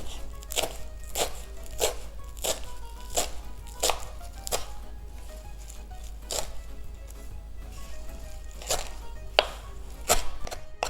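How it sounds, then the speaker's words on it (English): A knife chops flat-leaf parsley rolled into a rough bundle on a cutting board, with sharp, fairly regular strikes roughly every half second to second, close and clear, with no talking. "bunch it up into a rough roll here, as much as you can with your hands, and then we'll just chop it down"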